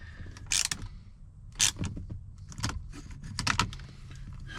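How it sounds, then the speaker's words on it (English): A key jangles and clicks metallically as it goes into the ignition of a flood-damaged Corvette ZR1, in several close, quick bursts over a low steady hum. "Now we'll put in the key that it came with"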